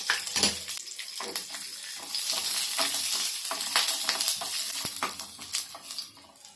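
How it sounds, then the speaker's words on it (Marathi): Green chillies and garlic roasting in a little oil in a pan, a close sizzling hiss swelling and fading with brief stirring knocks and scrapes. "हिरव्या मिरच्या आणि लसूण हे पण भाजून घेऊया"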